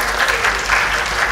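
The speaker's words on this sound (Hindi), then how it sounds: "मैं चाहता हूँ कि एक बार बहुत अच्छी तालियाँ आप लोग बजाएं" Audience at an Urdu-Hindi poetry mushaira breaks into steady, dense applause, a full room of clapping held at even loudness for the whole brief moment.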